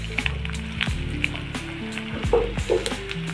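Crushed garlic sizzling in a hot pan, a steady close frying hiss with a few soft stirring knocks and clinks, no talking.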